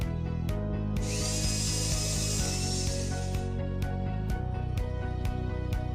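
A power tool cuts the bottom flange of metal façade clamps while a ventilated façade is replaced at height, giving a loud steady mechanical whir with a high grinding screech in the middle and regular clicks throughout, with no talking.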